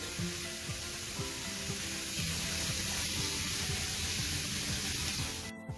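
Onions frying in a pan for stuffed butternut squash, a steady close hiss and crackle of sizzling with faint scraping ticks, running unbroken and free of talk.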